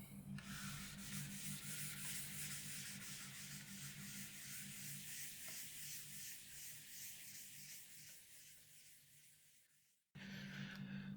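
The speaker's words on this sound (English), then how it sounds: "Let me rub this portion of the board." A steady, scratchy rubbing of chalk being wiped from a board during a physics lecture, continuous and close for about ten seconds, breaking off briefly and then resuming.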